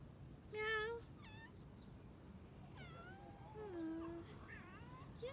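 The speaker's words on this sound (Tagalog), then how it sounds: "Yan si Kuting. Ang cute nagtatago" A small kitten meows several times, high and thin, with short pauses between cries against a quiet background.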